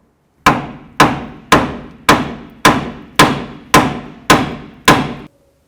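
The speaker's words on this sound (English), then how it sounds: "Now I take a hammer because I'm not reusing it, so it's okay if you peen over the threads." Nine evenly spaced metallic hammer blows on tie rod threads of a Jeep Cherokee ring out one after another at a steady pace, loud and close, each decaying quickly.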